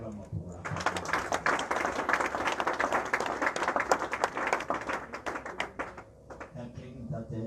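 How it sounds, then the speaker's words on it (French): Church congregation bursting into sustained applause, dense overlapping claps with some voices, loud and close throughout, with quieter tones at the start and end. "On acclame pour la parole."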